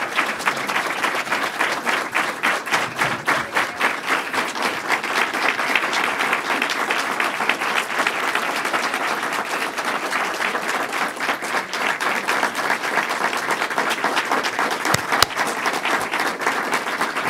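Loud, sustained audience applause for Christine at a New York state government event on campus sexual assault policy, dense even clapping that continues without a break from start to finish.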